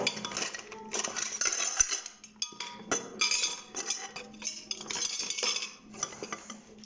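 Dishes, pots and cutlery clink and clatter in a home kitchen while being washed and set to drain, irregular close clanks and chinks with short pauses between, no talking.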